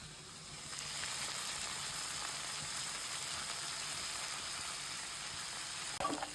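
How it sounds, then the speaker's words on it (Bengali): Koi fish frying lightly in hot oil in a home kitchen, a steady close hiss of sizzling with a brief clack near the end. "এই যে এখন মাছ হালকা ভাজা দেওয়া লাগবে"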